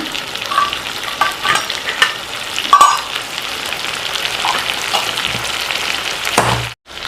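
Tomatoes and a spoon of chili powder sizzle and fry in a pan for liver curry, a steady crackling hiss with a few scraping stirs, close and alone, cutting out briefly near the end.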